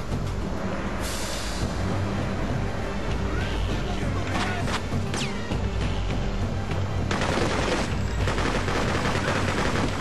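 Gunfire from the video game Freedom Fighters, bursts of shots and automatic fire crackling continuously over a dense, loud battle soundscape, with a voice in the mix.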